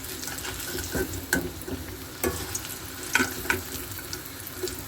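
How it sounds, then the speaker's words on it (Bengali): Pieces of taro crackling in hot oil, with occasional clinks and scrapes of a utensil against the pan. "এরকম করে সবগুলো আমি এক এক করে ভেজে নেব।"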